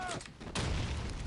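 A grenade blows up inside a bunker in the video game Call of Duty 2, a sudden broad boom with a rumbling low tail that fills the rest of the moment, preceded by brief game noise.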